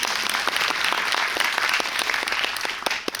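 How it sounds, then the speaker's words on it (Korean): Sustained audience applause fills a cinema hall during a post-screening talk for a film, dense clapping from many hands holding steady for a few seconds, then thinning slightly at the end. "박수 한번 부탁드리겠습니다"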